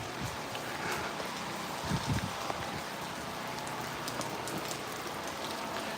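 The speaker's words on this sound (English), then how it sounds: "rain's really picking up and start to splatter on me a lot" Heavy rain pours steadily in Santa Cruz, Jamaica as a hurricane approaches, a dense continuous hiss of drops splattering nearby surfaces with a brief louder gust of rustle midway, no voices.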